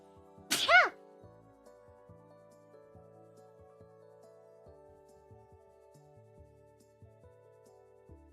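A single short, sharp human sneeze near the start, close and loud, followed by quiet room tone with faint low background sound.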